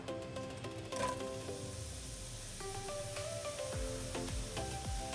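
Mushrooms sizzle in a hot pan with oil and butter, a faint, steady hiss sitting beneath louder background music.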